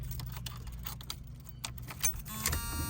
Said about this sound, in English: I'm in the car. Start it up.